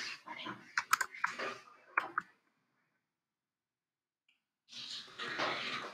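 Typing on a computer keyboard comes as a brisk cluster of key clicks mixed with a voice, then a silent pause before another dense burst of typing and chatter.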